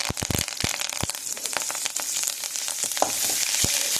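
Vadagam and curry leaves fry in hot oil with a dense, crackling sizzle. Sharp pops and spits break through now and then, close and continuous.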